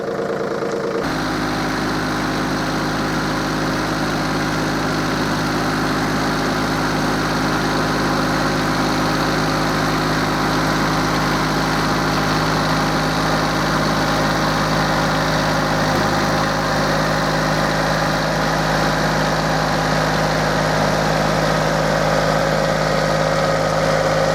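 A Yanmar KE-3 mini tractor engine runs steadily while tilling soil, a loud, continuous near drone with a constant low hum that holds the same pitch for the whole stretch, with no talking over it.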